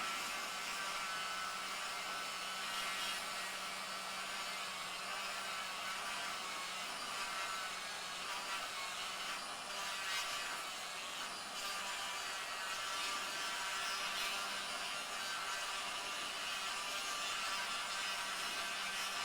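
A small power tool grinds down excess material during the setup of a Yamaha LL11 acoustic guitar, giving a continuous, even, faint whirring hiss for about twenty seconds with no talk.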